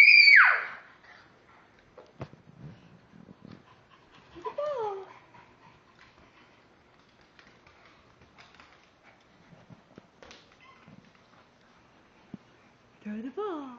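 A puppy playing ball indoors yips, whimpers and pants in short bursts, with a sharp high yelp at the start. Children's voices are heard at moments between the sounds.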